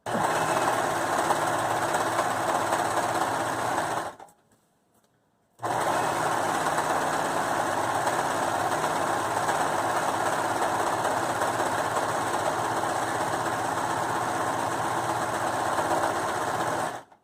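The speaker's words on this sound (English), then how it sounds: "So what I do is I open it up and I serger the top first." A serger sewing machine stitches and trims the top edge of a pillowcase in long, fast, continuous mechanical whirring runs, close and steady, broken by one short pause.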